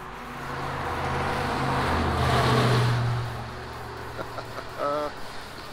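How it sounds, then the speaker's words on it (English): A truck with loud tires rolls past a parked car, a broad road roar that swells to a peak midway and fades, followed by a few faint knocks and a brief tonal squeak near the end. "I'm gonna wait for this truck to go by because it's got some loud tires."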